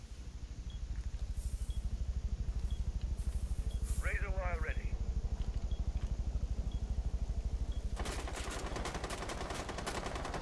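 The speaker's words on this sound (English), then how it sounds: "They're shooting in this window." Rapid automatic gunfire in Rainbow Six Siege during a bomb-mode team match, a continuous close, loud stream of shots with a brief radio chirp partway and heavier bursts near the end.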